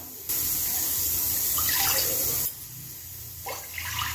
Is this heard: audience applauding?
no